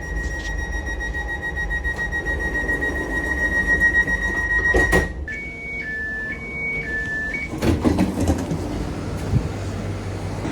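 A train rumbles nearby at Amsterdam Sloterdijk station, with steady tonal hums and a shifting electric whine as it moves, then clanks and rattles of carriages passing.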